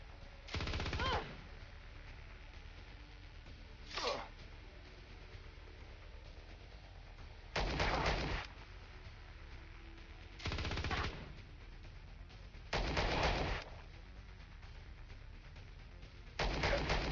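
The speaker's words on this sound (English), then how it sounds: "All right, gun him down." Short bursts of automatic gunfire from the space trading video game Star Traders: Frontiers during a ship combat with pirates, several separate volleys spaced seconds apart over a steady hiss.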